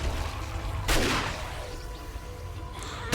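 A shotgun fires in a horde survival video game, with one loud, sharp blast and a decaying boom, then a quieter second shot near the end over steady background rumble.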